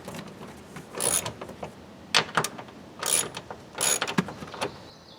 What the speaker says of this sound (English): I'll tighten them up with the socket wrench